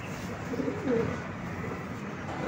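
Soft, low cooing from a racing pigeon, a couple of brief murmured coos over steady background noise.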